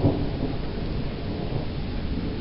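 Mixed hail and rain pouring down during a big thunder and lightning storm in Lehigh Valley, a steady dense patter and hiss with a low rumbling swell near the start, no voices.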